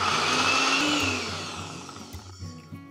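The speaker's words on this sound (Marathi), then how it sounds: "सगळ्यात आधी मिक्सरच्या भांड्यामध्ये पाव कप लसूण घ्यायचं आणि आधी याची ना छान पेस्ट" A mixer grinder whirs loudly as it blends a quarter cup of garlic into paste, its motor whine strong at first, then winding down and sputtering to a stop near the end, with no voices.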